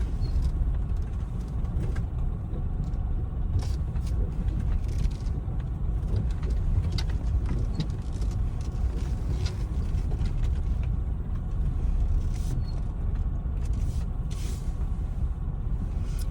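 A car rolls slowly into a spot at a rugged desert overlook campsite, a steady low engine rumble with crunching tyres on gravel and occasional clicks and knocks, close and continuous throughout.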